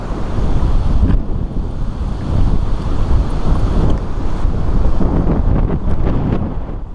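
Strong wind at a farm pond buffets the microphone in a loud, steady roar with gusty surges and no voices.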